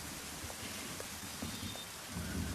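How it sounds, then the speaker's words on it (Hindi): Heavy rain in a film scene: a dense, steady downpour hiss fills the whole stretch, swelling slightly toward the end, with no voices over it. "लगता है बारिश नहीं रुकने वाली।"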